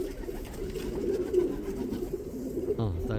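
Pigeons in a loft give soft, low, repeated cooing, close and continuous, with a voice speaking over the end.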